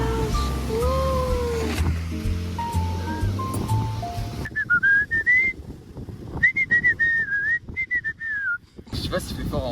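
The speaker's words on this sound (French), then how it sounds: "Mais siffle fort." Loud, wavering whistling by a person on a beach in Spain, several separate sustained phrases rising and falling in pitch, with people talking nearby and surf in the background.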